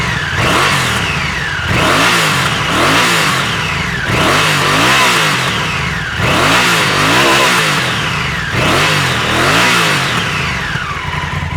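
A Honda Africa Twin motorcycle engine revs hard to high rpm and drops back, in repeated rising and falling sweeps, loud and close.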